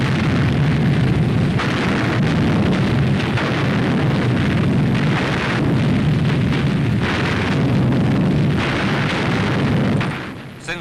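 An artillery gun salute in Moscow marking a wartime victory, heard as dense, loud rolling booms and rumbling blasts that run together continuously before cutting off at the end.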